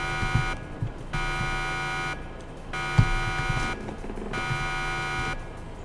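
A synthetic alarm tone pulses in a steady on-off pattern: sustained bursts of about a second with short gaps between them. It stays fairly loud and continuous over a faint rumble, with no speech.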